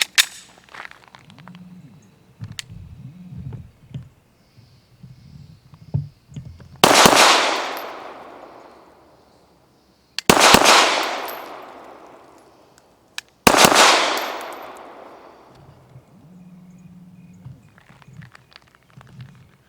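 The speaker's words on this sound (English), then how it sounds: "We've only been shooting the TP9DA for a little bit" A Canik TP9DA pistol fires three quick pairs of shots in rapid doubles, each pair a loud, sharp crack with a ringing tail, separated by a few seconds of pause. There are brief low voices before and after.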